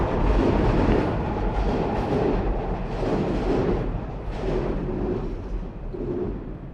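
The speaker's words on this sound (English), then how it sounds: "train going by." A train rolls past close by, with a loud, continuous rumble and rhythmic rail clatter that swells and eases as the carriages go by.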